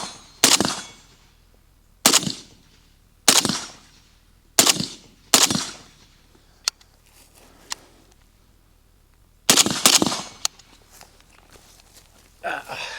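An RPK rifle fires 5.56 rounds fed from Bulgarian magazines, sharp single shots spaced about a second or more apart, loud and close, with quiet handling noises between.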